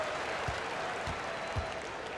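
Video-game basketball arena crowd noise, fans in Detroit cheering for the Pistons: a steady, moderately quiet wash of crowd cheer with a few soft low thumps underneath.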